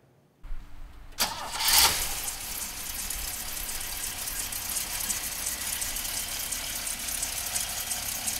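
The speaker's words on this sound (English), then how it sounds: "let's fire this baby up" A 1958 Chevrolet Bel Air cranks briefly after a quiet moment, catches and fires, then settles into a steady idle rumble that carries on to the end.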